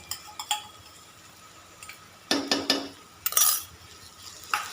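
Onions with ginger and green chili paste are stirred in a pan: scattered scraping clatters in short bursts, fairly quiet, with gaps of near silence between strokes.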